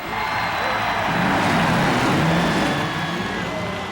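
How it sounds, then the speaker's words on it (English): Indy race car engines roar together at the start of the Indianapolis 500, a dense, steady, loud wall of engine noise that swells slightly and holds without a break, with no talk audible. "gentlemen, start your engine"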